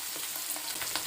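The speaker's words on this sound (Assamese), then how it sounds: "এতিয়া এয়া জলকীয়াখিনি ঢালি লৈছো।" Green chillies hit hot oil already seasoned with ground spices for a quick pickle, giving a steady, loud close sizzle with crackling bursts throughout.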